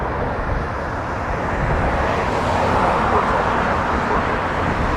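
An airliner departs Toronto Pearson airport, heard as a steady, broad roar of jet engine noise from some distance, constant and even throughout with a slight swell toward the middle.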